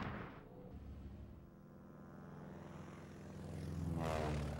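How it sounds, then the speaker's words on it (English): Propeller warplanes droning over Pearl Harbor, a low continuous engine roar that dips and then swells louder as one passes close near the end, with no talk. "As the planes reached Pearl,"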